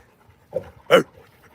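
A dog pants in two short, breathy bursts close to the listener, with quiet gaps between them and no talking.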